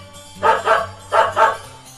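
Two quick pairs of dog barks, a double woof followed by another double woof, loud and close with a low hum underneath.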